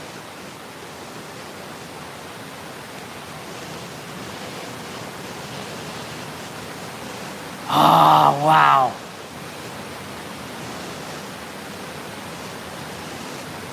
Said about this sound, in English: There's a waterfall right nearby.